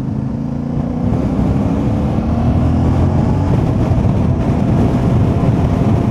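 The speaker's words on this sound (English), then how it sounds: "I love that exhaust." A motorcycle exhaust, from a test ride of the CF Moto 450, Honda Transalp or Ducati Desert X, drones loud and continuous with a low rumbling note and wind buffeting while riding in third gear.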